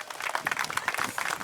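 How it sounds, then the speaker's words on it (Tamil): Audience applause breaks out at a live comedy stage show, a brief burst of dense, steady clapping from a crowd, fairly loud and without pause. "ஒரு தடவை கைதட்டல் கொடுக்க."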